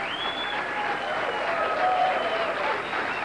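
Crowd applause fills the arena after the championship title match of the $125,000 Kessler Open bowling tournament, a steady roar of clapping with some whistles over it.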